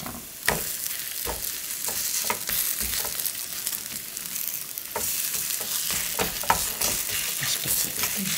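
Grated radish pancakes frying in oil in a pan, with a steady crackling sizzle and sharp spattering pops and scraping clicks as the pan is shifted and the pancakes are pressed.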